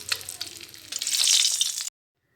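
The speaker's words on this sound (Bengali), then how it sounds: "একটা কড়াইতে সর্ষের তেল দিয়ে কই মাছগুলোকে ভেজে নেব।" Koi fish frying in mustard oil in a wok, giving a bright, close sizzle with crackling pops for under two seconds before it cuts off abruptly into silence.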